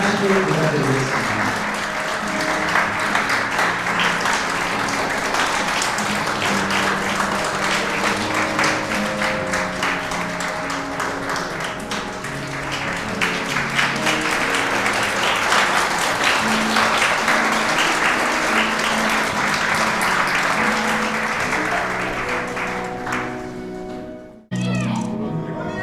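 Wedding guests applauding at a wedding ceremony, sustained dense clapping from a crowd over music and a voice, running steadily for most of the clip before cutting off near the end.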